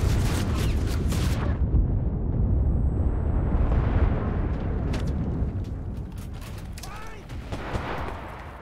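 In the wartime shooter Enlisted, a grenade goes off with a loud, heavy boom that rumbles and decays, followed by scattered gunfire and a few sharp cracks.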